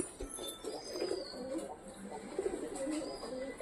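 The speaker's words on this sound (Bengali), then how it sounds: "সব কবুতরগুলায় নামছে খাওয়ার জন্য" Several pigeons coo softly nearby in overlapping low warbles as they feed, with faint rustling and a high background whistle.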